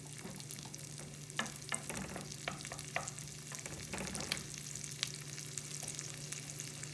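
Low-sodium bacon frying in a pan for peas, bacon and onions, a constant close sizzle broken by repeated sharp scrapes and taps as it is stirred, no talking.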